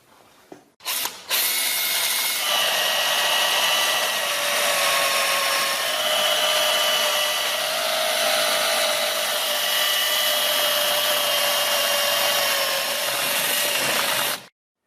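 A power drill bores out spot welds on a Land Rover bulkhead during restoration, a steady whining drill tone that runs continuously for most of the stretch after a brief start, then cuts off abruptly.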